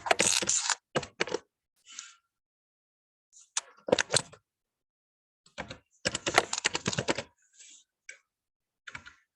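Computer keyboard typing during a vector graphics lesson, with quick bursts of close key clicks separated by silent pauses, fairly loud and heard alone.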